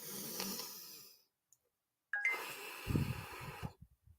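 A deep breath drawn in through the nose during a laughter yoga session, a loud airy inhale after a pause, ending in a few low snorting puffs, heard alone without talk.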